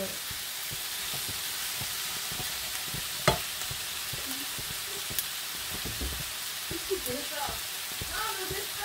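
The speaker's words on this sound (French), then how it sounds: "vous laissez cuire les poivrons quoi" Peppers cooking in a pan under a continuous, even sizzle and hiss, broken by occasional stirring taps and scrapes, close and steady with no talking.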